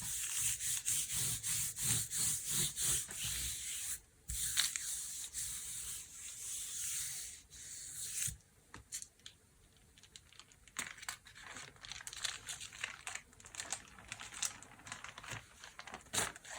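Scrap paper being torn up by hand, a long run of close, dry ripping and rustling that comes in bursts and pauses, loud at first and then more broken and uneven.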